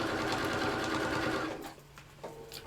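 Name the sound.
sewing machine stitching down to enclose a seam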